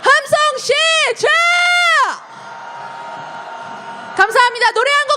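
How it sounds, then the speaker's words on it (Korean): Protesters at a street march in Seoul calling for President Yoon Suk Yeol's impeachment raise a loud, long cheer. Voices shout and whoop for about two seconds, a quieter wash of crowd noise follows, and then louder shouts burst out again near the end. "함성 시작!"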